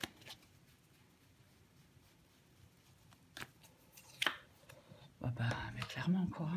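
Tarot cards are handled and laid out with soft riffling and snapping card sounds, close and quiet, followed by louder shuffling near the end while a voice speaks softly.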